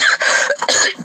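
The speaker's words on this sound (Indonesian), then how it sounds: "aduh batuk" A single person coughs in a few quick, harsh bursts, close and loud, during a humorous religious debate.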